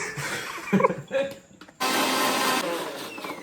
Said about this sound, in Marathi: चला लावा मिक्सरला.